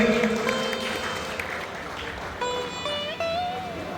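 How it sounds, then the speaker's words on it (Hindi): An audience applauds to honour an official at a railway track maintainers' union conference at Alipurduar Junction. The steady clapping runs throughout, with a voice and some tonal sounds rising over it near the end. "जोरदार ताली के साथ DN2 साहब का"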